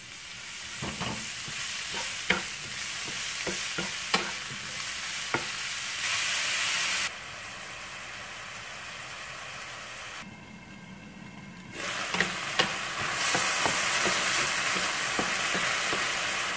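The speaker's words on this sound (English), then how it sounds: "Now we're gonna cook the mushroom. A little bit of olive" Beech mushrooms cook in olive oil with a steady, close sizzle, broken by sharp clicks and scrapes of stirring; partway through the frying noise thins briefly, then swells back up.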